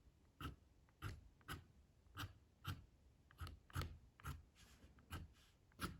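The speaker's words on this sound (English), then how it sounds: "And then back to the scribing tool." A scribing tool scratches across watercolor paper in a watercolor landscape painting, making quiet, close, crisp scraping strokes about twice per second in a steady rhythm.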